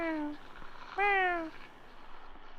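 A cat meows in the video game Kentucky Route Zero, two clear drawn-out meows with a pause between them, close and distinct over faint background sound.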